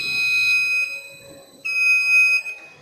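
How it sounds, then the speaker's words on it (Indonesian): An emergency buzzer on an industrial automation trainer sounds in two loud, steady electronic tones, the first lasting under a second and the second, after a short gap, running about another second, with no voices. "maka sistem emergensi akan aktif, buzzer akan menyala, mengeluarkan suara"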